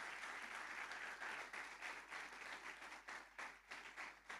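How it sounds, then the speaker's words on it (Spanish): A church congregation breaks into sustained applause at an evening Sunday service, a dense wash of many hands clapping steadily with slight swells and dips and no speech over it. "¿cuántos le dan un fuerte aplauso a Dios por esa palabra?"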